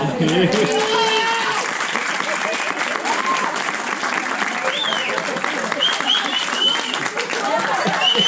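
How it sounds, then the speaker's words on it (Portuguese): Wedding guests applaud just after the couple's kiss, a sustained burst of clapping mixed with crowd chatter, cheers and a few sharp whistles. "Palmas, pessoal."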